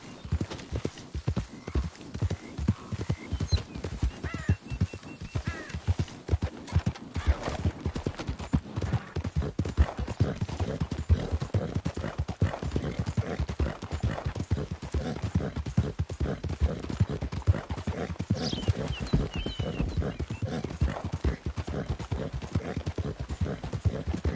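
A horse in Red Dead Redemption II runs with a fast, unbroken drumming of hooves, each strike crisp and close, its rhythm holding steady for the whole stretch with no talking.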